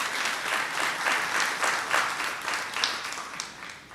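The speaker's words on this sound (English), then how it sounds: "Please take a bow, a round of applause, ladies and gentlemen." An audience at the Trinidad and Tobago Diamond Standard Awards ceremony applauds, a moderately loud, steady round of clapping that tapers slightly toward the end.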